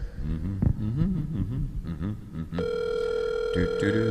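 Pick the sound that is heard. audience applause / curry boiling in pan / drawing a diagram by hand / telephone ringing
telephone ringing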